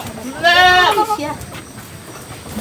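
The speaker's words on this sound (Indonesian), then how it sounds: "Nah yang ini adalah kambing, bukan domba." A goat bleats once up close, a loud wavering cry lasting about a second, followed by quieter rustling in a forest setting in West Bandung.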